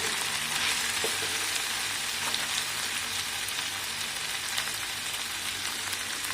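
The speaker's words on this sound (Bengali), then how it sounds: "মটরশুঁটিগুলো দিয়ে এটাও কষে নেব একবার।" Green peas sautéing in a hot pan give a continuous bright sizzle and crackle, close and even throughout, with faint stirring scrapes and no talking.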